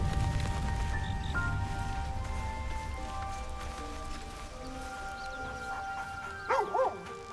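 A dog in the Baldur's Gate video game gives short yips and whimpers over a droning game music background, the dog sounds brief and mid-distance near the end.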